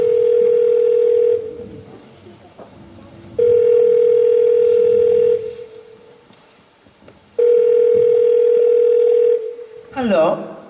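A telephone line gives a repeating tone in three long, loud bursts separated by pauses, ending with a brief click as the call connects to a detective.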